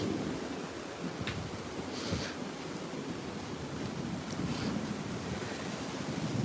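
A strong storm gust batters the microphone with roaring, sustained wind noise, steady and loud throughout with faint rattles mixed in, and no speech.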